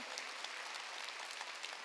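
A church congregation at a Wednesday worship service applauds in a brief, fairly quiet burst of dense, even clapping with no speech over it.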